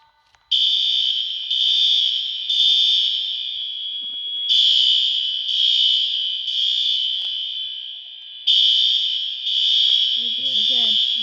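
A building fire alarm sounds during a system test, repeating loud piercing three-pulse tones in a steady temporal pattern, with faint voices briefly audible near the end.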